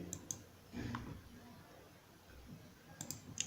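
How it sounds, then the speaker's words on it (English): Computer mouse clicks during partition deletion in a Fedora 30 Deepin install, a few faint, crisp clicks spaced apart over quiet background hiss. "So I'm gonna click here."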